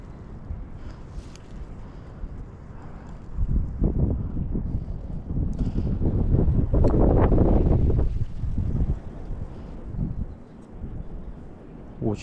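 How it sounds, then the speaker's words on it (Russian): Strong wind gusts across open water during roach fishing with a light micro-jig rig. Dull, roaring buffeting hits the microphone steadily, swells loudest through the middle and then eases. No one speaks. "Надо ждать, пока ветер надуется в одну сторону, сменит направление, либо утихнет"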